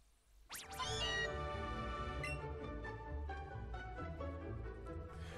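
Meowth's cry from Pokémon Let's Go Eevee rings out as a bright, sharply rising synthesized meow followed by a sustained, layered musical chime that rings on for several seconds, clear and up front.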